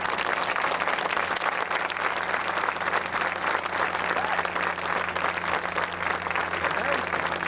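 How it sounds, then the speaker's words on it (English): A crowd at a high school varsity football game claps steadily in a loud, continuous round of applause honouring veterans, with a faint steady hum underneath and a voice speaking beneath it. "please rise so that you may be recognized with a round of applause of appreciation"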